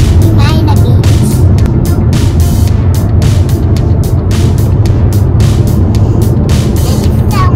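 A family car drives along the road toward Umina Beach, heard from inside the cabin as a constant low engine and road hum with frequent short bumps and ticks.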